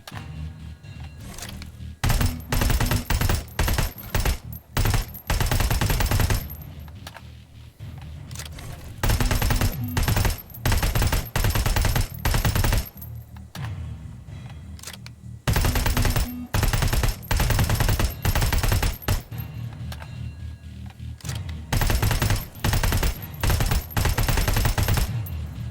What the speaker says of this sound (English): They just know they're being shot at.